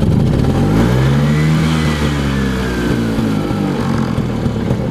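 An old two-stroke NSU Prima scooter engine revs up and settles back to idle, buzzing and rattling steadily up close, with the pitch rising and falling as the throttle changes.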